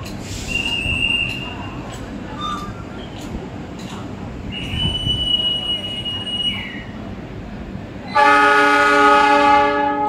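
An Argo Cirebon passenger train passes close by on its run toward Tegal. Rumbling wheels and squeals build and fade, then a loud, sustained multi-tone horn blasts over the last two seconds.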